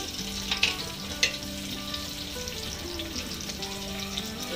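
Chopped tomato, ginger and garlic fry in a pan for keema, giving a steady close sizzle with a couple of sharp stirring clinks early on and a faint musical tone in the background.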